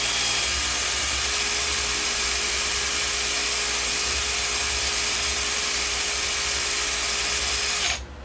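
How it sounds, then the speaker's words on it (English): A Bosch drill fitted with a wire brush cleans parts from a Kawasaki KMX 125 motorcycle, a loud, steady, continuous high whirr with a scratchy hiss that cuts off at the very end, with no talking. "I'll just give it a couple of minutes with a trusty Bosch drill and the wire brush"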